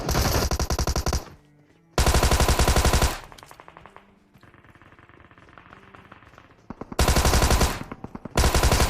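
Loud bursts of automatic gunfire from a battle royale video game, several sustained volleys separated by quieter stretches of in-game ambience.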